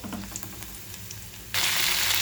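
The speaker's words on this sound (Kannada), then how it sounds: "ಎಣ್ಣೆ ಕಾದ್ಮೇಲೆ ಒಂದು ಸ್ವಲ್ಪ ಜೀರಿಗೆ ಆದಮೇಲೆ ಒಂದು 4-5 ಬೆಳ್ಳುಳ್ಳಿ ಜಜ್ಜಿಟ್ಕೊಂಡಿದ್ದೆ" Four or five crushed garlic cloves and cumin cook in hot oil. Quiet low crackling gives way halfway through to a sudden loud, steady sizzle that continues to the end.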